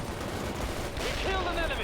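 Gunfire in the World in Conflict war game, dense and continuous, with a rising whine-like tone in the second half and radio-style voices underneath.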